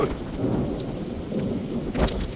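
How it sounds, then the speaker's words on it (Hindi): Heavy rain pours steadily in a strong windy thunderstorm, a dense continuous wash with low rumbling thunder beneath, close and loud throughout with no speech. "क्या तकड़ी आंधी है कि पानी अंदर तक आ रहा"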